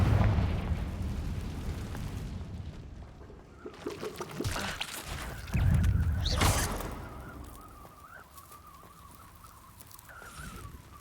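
A Confringo explosive spell goes off in Hogwarts Legacy with a loud burst and rumbling blast, followed by crackling debris and a fading hiss as the effect dies down.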